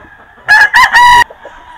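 A white Kelso gamecock rooster crows loudly and close by, one crow broken into three strong bursts, with a quiet background before and after.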